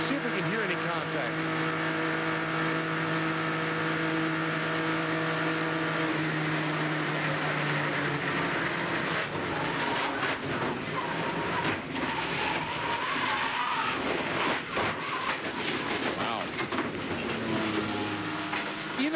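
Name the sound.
race car backing off throttle in corner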